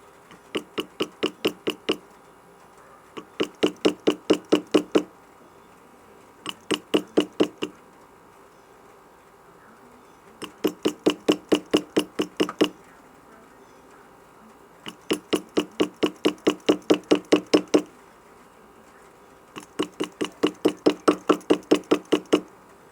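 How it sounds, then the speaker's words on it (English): Rawhide mallet striking repeatedly, in close, loud bursts of about six to twelve sharp knocks each, separated by short pauses, with no talking. "We're going to use our rawhide mallet, not rubber mallet."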